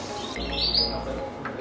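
Canaries at a canary breeding farm chirp in a brief high twittering burst over a steady low mechanical hum, with a faint extra chirp near the end; no talking.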